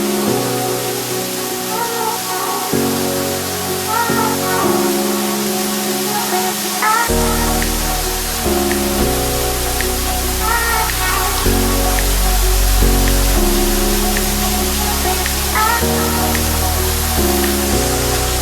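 Continuous rushing water from the Junani waterfall in Bargarh roars loudly throughout while music plays over it.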